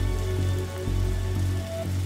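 Rain falling steadily in the spooky video game The Darkside Detective, a continuous even patter on surfaces over a low hum, with no talking.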